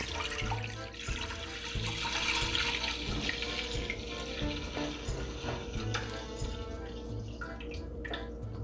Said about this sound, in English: you have to put your pot on the stove and then pour the milk